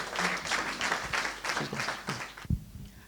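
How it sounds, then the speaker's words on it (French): An audience applauds at a book launch, the third book release by Dorcas Tete, with dense, continuous clapping and cheering that cuts off sharply near the end with a single thump. "notre merveilleuse assemblée nous encourage par des acclamations"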